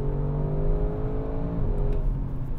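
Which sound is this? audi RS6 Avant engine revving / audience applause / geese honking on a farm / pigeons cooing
audi RS6 Avant engine revving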